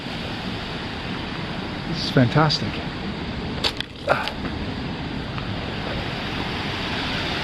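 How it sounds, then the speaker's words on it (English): Steady broadband rush of several small waterfalls at Wai'ale Falls on Hawaii's Big Island, continuous and close, with a few short bursts of speech over the water noise. "All these little falls up here."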